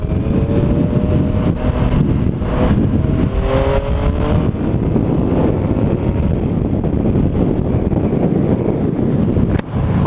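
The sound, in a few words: motorcycle riding and overtaking a vehicle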